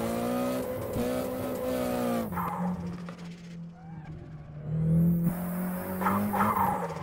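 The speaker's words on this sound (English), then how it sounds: "all the turbo whistle." Nissan 180SX in Assetto Corsa with a steady engine drone and a high turbo whistle running over it, and brief tyre squeal as the car drives on, loud and close.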